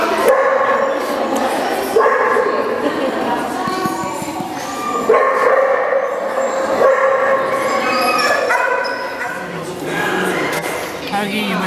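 A dog at a spay clinic yips, barks and whimpers in repeated bursts close by, with voices in the room around it.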